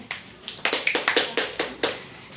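A classroom group of students clapping hands in a short rhythmic sequence of about a dozen sharp claps, close and clear, with no talk over it.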